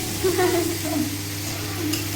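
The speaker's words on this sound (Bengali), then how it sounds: "আর সাথে ভাজা করবো কলমি শাক কলমি শাক এটা ভাজা করবো" Water spinach frying in a pan while being stirred, a soft continuous sizzle with scraping, under a low background hum.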